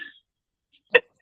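A single short, sharp sneeze bursts out once near the end, close by, after a moment of near silence.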